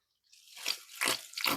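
Water poured into a gold pan for a pay dirt sample, a soft rising splash and trickle that swells into two brief sloshing bursts, close and quiet.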